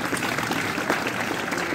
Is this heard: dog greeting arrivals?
no